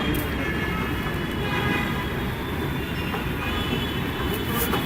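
Delhi Metro train running, a loud continuous rumble of rail wheels and carriage noise with faint squeals, steady throughout with no talking.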